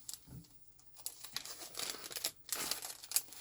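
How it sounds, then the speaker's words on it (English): Close crinkling and rustling as paper envelopes are shuffled and sorted, an irregular crackle of crisp paper handling with brief pauses between bursts. "I don't know if you guys are going to be able to handle all of the crinkling"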